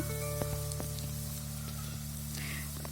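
Onions fry in a pan with a few cardamom pods while banana-flower bhaji is being made, giving a soft, steady sizzle under a constant low kitchen hum, with a few light clicks.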